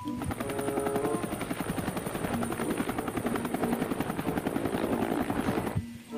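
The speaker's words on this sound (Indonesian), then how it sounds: "ternyata sebuah helikopter" Rapid, rhythmic chopping of toy helicopter rotor blades with a high buzzing whine, steady and fairly close, ending abruptly.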